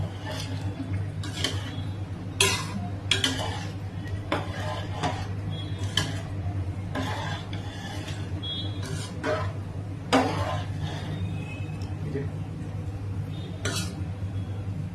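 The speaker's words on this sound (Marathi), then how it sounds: "एकदा हलवून घ्यायचं मीठ एका जागी बसू नये म्हणून." A spoon scrapes and clinks against a pot while chicken pulao is stirred after salt is added, the taps coming in a loose, repeated rhythm over a steady low hum from the stove.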